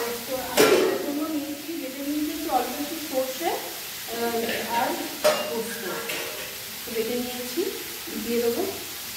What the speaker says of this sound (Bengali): পোস্তটা কাঁচা গন্ধ বেরোনোর জন্য খানিকক্ষণ আমি কষিয়ে নেবো